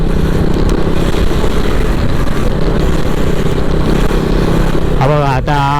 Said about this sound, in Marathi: आपली बाईक आहे तर आपली गाडी त्या साईडने निघेल सटासट